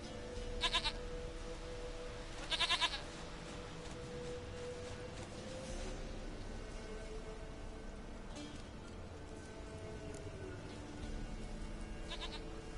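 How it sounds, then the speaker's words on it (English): A goat in The Witcher 3 bleats in short repeated calls, two prominent nearby bleats early and fainter ones later, over a steady ambient game background with no talking. "Goat of mine, dearest,"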